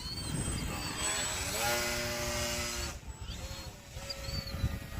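A Hawk King RC airplane's small electric motor whines at about half throttle, droning steadily as the plane passes at moderate distance, the pitch shifting as it flies by.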